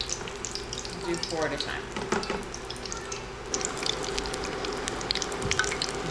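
Apple fritters fry in hot oil four at a time with a steady sizzle and bubbling, while a person talks over the cooking.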